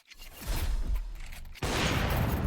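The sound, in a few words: AK rifle gunfire in video game Counter-Strike 2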